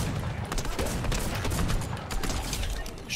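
Rapid drum gun fire in the Fortnite battle royale game, a dense, sustained burst of shots filling the whole moment at steady loudness with no pauses.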